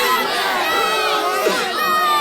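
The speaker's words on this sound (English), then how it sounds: "let's get some applause in here" A sound-effect crowd roars and cheers at a steady, loud level, with shouting voices and children's cries blended into a continuous wash of noise and no pauses.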